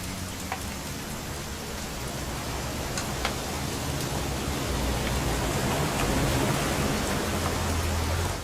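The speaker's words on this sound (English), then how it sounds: "It's gonna rain the whole weekend, isn't it?" Steady, heavy rain in the video game What Remains of Edith Finch hisses continuously, a dense wash of falling water with a few faint drips standing out, growing slightly louder toward the end.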